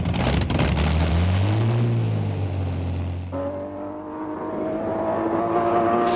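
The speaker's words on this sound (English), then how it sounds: "the 5-ton Bluebird with its great aeroplane engine shot by" The 5-ton Bluebird land speed record car with its great aeroplane engine roars past on the Daytona sands, a loud engine drone that rises and then falls away in pitch as it passes.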